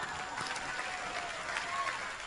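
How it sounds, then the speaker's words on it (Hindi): Applause from the audience at a film awards ceremony, a steady, even wash of claps held at the same level throughout, with faint crowd murmur underneath. "इनके लिए भी जोरदार तालियां।"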